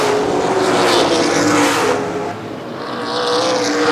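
Race cars at Baer Field Speedway during an ARCA/CRA Super Series event roar loudly into turn 4, a dense continuous engine drone that swells, dips briefly as a car passes, then rises again.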